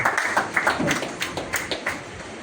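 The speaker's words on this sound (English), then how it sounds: "applaudissez pour lui" Audience applause at an international collaborative event on environmental challenges in Togo: moderate, uneven clapping from a modest crowd, continuing steadily throughout.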